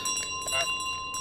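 A small hand bell rings in Untitled Goose Game, bright repeated tinkling strikes with a sustained metallic tone, fairly faint and close.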